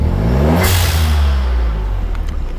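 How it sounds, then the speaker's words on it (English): A modified VW Up GTI engine revs hard and loud, its roar building then easing, with the turbo dump valve venting a sharp hiss as the throttle lifts; no talking. "And then next to that we have the dreaded dump valve. Well, I suppose I better demonstrate this."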